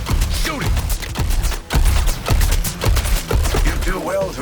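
Rapid gunfire in the Suicide Squad: Kill the Justice League video game, a dense run of loud, repeated shots with thuds and impacts layered over game effects, with no talk.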